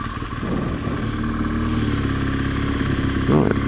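A BMW R1200GS motorcycle engine runs steadily close by as the bike rolls onto beach sand, with a low droning rumble, some clatter, and a brief rise in revs near the end.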